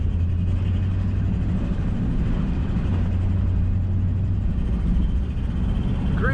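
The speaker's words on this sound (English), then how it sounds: "Today we're driving a 1965 Cadillac DeVille in bright white with a red interior." A white 1965 Cadillac DeVille convertible with its top down drives along, giving a steady, continuous low engine and road rumble with wind noise throughout, and no talking.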